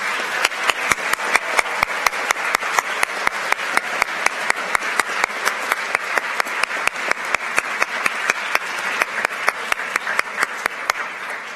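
Steady applause at a school awards ceremony honoring gold winners of the National Spanish Exam, an even wash of clapping marked by a strong regular beat of synchronized claps from start to finish.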